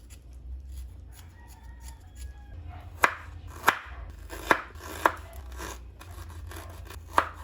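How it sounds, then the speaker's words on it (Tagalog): A knife chops garlic, ginger and onion on a board, five or six sharp, close knocks spaced irregularly over a low hum of room noise, with no talking. "Maghihiwa lang ako ng bawang, luya at sibuyas."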